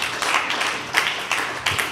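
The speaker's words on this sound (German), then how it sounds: "ihn begrüßen wir mit einem warmen Applaus auf der Hackathon-Bühne" Audience on a hackathon stage in Wetzikon gives a short round of warm applause welcoming a speaker, a brief dense patter of many clapping hands with a few sharper, louder claps standing out.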